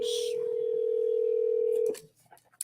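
A single long, steady ringback tone sounds over a phone line for about two seconds, then cuts off, followed by a few faint clicks.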